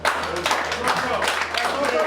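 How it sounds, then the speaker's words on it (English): An audience applauds steadily at a business mentorship gathering with a barbers' association in Agbor, the dense clapping loud and continuous for about two seconds, with voices mixed in. "So clap for him."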